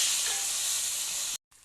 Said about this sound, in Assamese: এইফালে আকৌ মই ভাবিলোঁ মাছখিনিকো ভাজি লওঁ